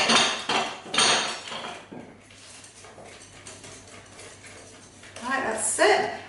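Mashed banana is stirred into chocolate brownie batter in a bowl, giving close, repeated knocks and scrapes of a utensil against the bowl, with brief voice sounds near the end.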